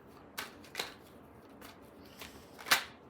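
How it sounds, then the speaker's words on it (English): Tarot cards are shuffled in a few quiet, separate riffles and snaps spaced across a short, hushed moment, the last burst crisp and slightly louder, with no speech. "Sorry for all the shuffling."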